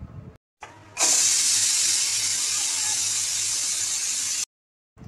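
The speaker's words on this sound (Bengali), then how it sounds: "প্রেসার কুকারে 2 সিটি পর্যন্ত অপেক্ষা করব।" A pressure cooker cooking spicy pigeon curry vents steam in one sustained, loud, close hiss lasting about three and a half seconds, starting abruptly and cutting off sharply, with no talking.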